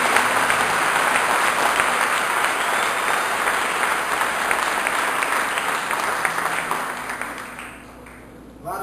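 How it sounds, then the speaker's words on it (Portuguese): A church congregation claps loudly and continuously in a strong wave of applause for the Lord, dense and reverberant, before it thins out and fades near the end. "Se você crê, dê um aplauso forte ao Senhor."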